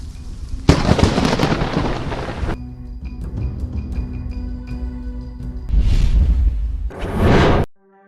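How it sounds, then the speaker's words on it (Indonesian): A lightning strike and thunder during rain, loud crackling blasts with rumbling bursts separated by quieter stretches with faint tones, the final burst cutting off abruptly. "Terlihat pria ini berada hanya beberapa langkah dari petir yang menyambar ya."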